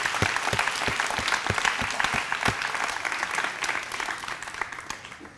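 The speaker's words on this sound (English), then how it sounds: "can we give a round of applause for all the posters today?" Audience applause for student design posters at a final presentation session, a dense burst of clapping from a room full of people with a few sharp individual claps standing out, tapering off gradually.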